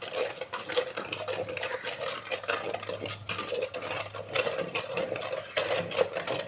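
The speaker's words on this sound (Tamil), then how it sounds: "கல் உப்பு போட்டுட்டு நல்லா அப்படி கடைஞ்சிக்கலாம்" Wooden churner whisking tamarind leaf water with rock salt, a fast continuous swishing and scraping with rapid rhythmic strokes, close and fairly quiet, with no talking.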